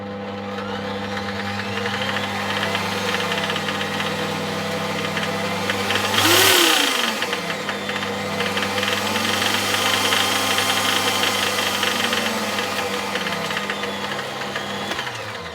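The brushed motor of a Parkside lathe runs steadily with a buzzing, slightly rough hum and mechanical rattle, briefly whining up in pitch before settling back to a constant drone.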